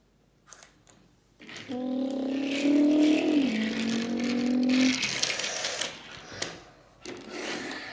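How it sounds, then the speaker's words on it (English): A toy car engine revs in a LEGO short film about hurricane devastation, a droning tone that climbs and drops for several seconds over scraping and rattling noise. "I'm turning this car around right now."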